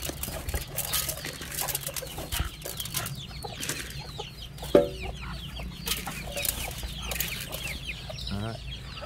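Farm chickens cluck busily while flocking to a feed of rice, mashed banana and bran, with the soft, scattered calls of the flock close by and occasional human voices among them.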